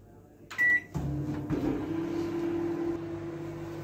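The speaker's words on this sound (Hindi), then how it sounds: "यहाँ पर जो घी है 30 सेकेंड्स के लिए जरा मेल्ट कर लूँ माइक्रो पावर पे" A Panasonic microwave oven melting ghee on micro power: a short beep, then a door or button clunk, and a steady close mechanical hum with a low drone running to the end.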